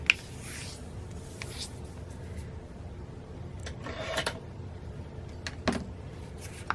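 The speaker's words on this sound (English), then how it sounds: "what I'm going to do is fold this in half" A sheet of paper being folded in half for a snowflake rosette, with soft rustling and rubbing scrapes and a few sharper crinkles over a low background hum.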